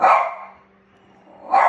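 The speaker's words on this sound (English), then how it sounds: "Sorry, that's my dog Sandy." A dog barks twice, loud and close, with a short quiet gap between the barks.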